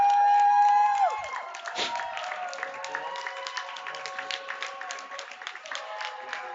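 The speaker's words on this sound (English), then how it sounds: "You're going to hear everybody cheering pretty hard here as they try and encourage these guys" Spectators at a boys' high school swim and dive meet cheer and shout encouragement for swimmers in the water, a steady crowd roar with whistles and voices echoing through an indoor pool hall, after a long high tone at the start.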